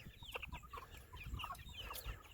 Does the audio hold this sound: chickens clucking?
yes